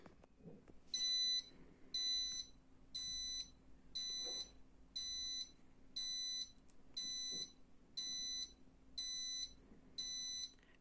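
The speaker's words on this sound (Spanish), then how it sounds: "la alarma pita 10 veces" A Taurus HM973IXD built-in convection oven alarm beeps ten times in an even rhythm, short bright tones about a second apart, fairly quiet against a faint background hum.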